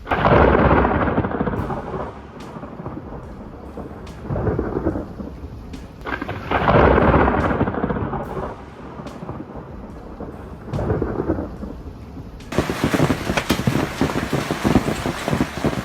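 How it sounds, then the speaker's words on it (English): Heavy rain pours throughout while deep thunder rumbles roll in repeated waves, loud and close, building to a harsh downpour near the end. "A deafening explosion crashing down from the sky left the men completely frozen in shock."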